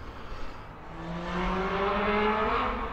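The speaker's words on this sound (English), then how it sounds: "I can't get away from these noisy motorbikes, can I, tonight?" Noisy motorbikes pass along a seaside promenade at sunset, a rising engine drone whose pitch climbs as one approaches and grows louder over a few seconds.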